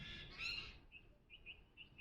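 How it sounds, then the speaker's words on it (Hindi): Birdsong with chirps and whistled notes, a brighter burst early on followed by several short repeated calls, fairly faint over a soft background hum. "आप सुन रहे हो पंछी की ध्वनि, गीत"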